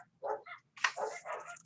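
Neighbor's dogs let outside bark a few times at a distance, a short cluster of yaps and woofs with a brief whimpery tone, faint and alone.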